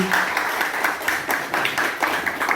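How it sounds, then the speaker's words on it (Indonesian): An audience at a teachers' training event applauds together, producing a steady, moderately loud patter of many hands with faint voices underneath. "Tepuk tangan untuk kita semua."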